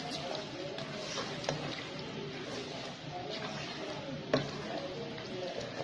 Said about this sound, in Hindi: अब इसमें डालेंगे हम मलाई, इसको थोड़ा सा और भूनेंगे इसके साथ डालकर।